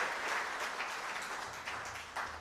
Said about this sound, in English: can we give a clap to